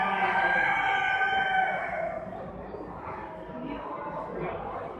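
Chickens at a fall poultry show, including splash and buff birds, with a rooster crowing loudly up front, then clucking and scattered bird calls among a noisy show-hall backdrop.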